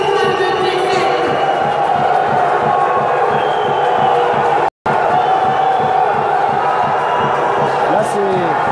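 A handball crowd in Challans keeps up continuous applause and cheering, a dense roar of clapping and shouts that runs nearly throughout.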